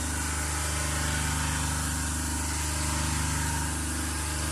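A DC shunt motor drives an induction generator on a lab test bench, giving a steady machine hum with a constant whine and low drone that holds evenly throughout.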